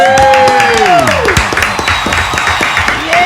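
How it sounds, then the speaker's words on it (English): A studio crowd applauds and whoops for guest Jason Kidd, steady clapping under a loud rising whistle-like cheer, fairly close and full throughout. "Another big round of applause"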